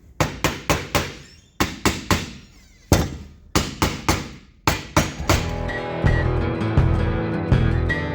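Ball peen hammer tapping a steel socket against an aluminum starter: about a dozen sharp metallic strikes in quick groups, close and loud, followed by a few seconds of duller clattering noise.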